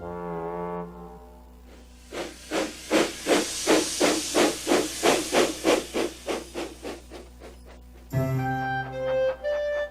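Steam engine Thomas puffing along in a cartoon railway scene: a rapid run of about a dozen rhythmic chuffs with hissing steam, followed by a sudden shift to bright tonal music and whistle-like notes.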